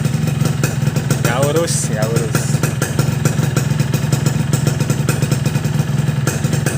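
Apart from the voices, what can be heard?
motorcycle engine with Boban Laser C33 aftermarket exhaust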